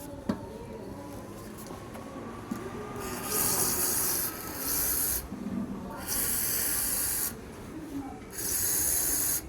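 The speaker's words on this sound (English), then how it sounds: "இப்போ நம்ம வந்து WD-40 அடித்து பார்க்கலாம் ஒர்க் ஆகாதான்னு" WD-40 is sprayed onto the fuel indicator of a Pulsar RS 200 BS6 motorcycle in three loud, close hissing bursts, each lasting a second or more, separated by short pauses and quieter background.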